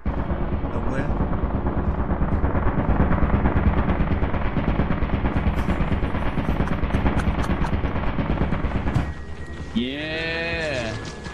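A machine gun turret in Lethal Company fires a loud, unbroken stream of rapid shots for about nine seconds, then cuts off abruptly, after which a voice is heard.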